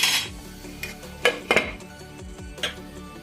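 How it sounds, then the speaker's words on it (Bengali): A lid set onto a cooking pot of prawn malai curry with prawns simmering inside, giving a few sharp metallic clinks and knocks close by, with quieter kitchen clatter between them. "এবার আমি এটাকে একটু ঢাকা দিয়ে দেবো।"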